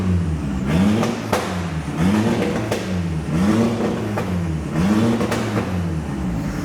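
A VW Caddy van's engine revving with no exhaust fitted, four rough, loud rises and falls of engine pitch in a steady cycle, harsh and droning, with no voices.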